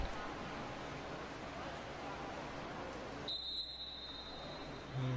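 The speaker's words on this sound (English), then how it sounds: "It's going to be a foul, a whistle." A referee's whistle gives one sharp, sustained blast partway through at a college women's water polo game, rising above echoing crowd noise and babble in an indoor pool.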